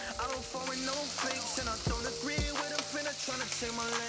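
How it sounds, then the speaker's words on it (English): Salmon sizzles in a hot pan, a steady fry crackle running under loud, pitched background music across a few seconds. "Get your salmon, lick it up straight in like that. Oh, it sizzle."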